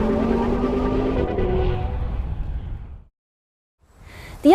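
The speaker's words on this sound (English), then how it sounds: "slip the transmission into S, and it'll open up the exhaust more," Audi RS Q3 from 2013 with the transmission in S mode and the exhaust opened, a throaty engine note droning steadily, then cutting out briefly before a loud rev returns.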